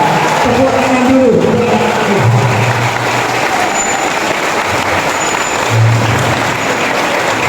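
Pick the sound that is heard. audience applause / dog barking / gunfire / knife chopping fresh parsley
audience applause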